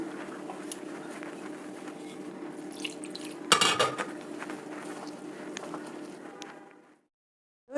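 Paratha dough mixed with cold water in a bowl in a home kitchen, with soft scraping and squelching, a sharp clatter of utensil against the bowl midway, then fading to silence.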